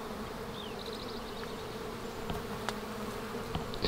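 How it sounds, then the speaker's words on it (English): Bees swarming in large numbers at an outdoor camping spot make a steady, dense buzz throughout, with faint bird chirps and occasional light knocks nearby. "Do you hear all those bees?"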